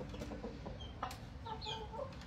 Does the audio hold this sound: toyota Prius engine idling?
no